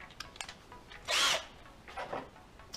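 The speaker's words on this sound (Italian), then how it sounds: "andiamo a posizionare il selettore sulla funzione trapano, quindi la rappresentazione della punta" A Parkside hammer drill from Lidl runs in drill mode at speed setting 2 with a 10 mm bit, firing two short whirring bursts, the first louder and the second briefer, against quiet background rustle.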